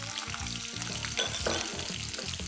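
Bay leaves, green cardamom and roughly cut onions sizzle steadily in hot oil, a continuous close frying hiss with faint stirring, no voices.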